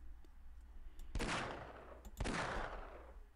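Two sharp, booming gunshots in Half-Life about a second apart, each with a long echoing decay, loud against a quiet background hum.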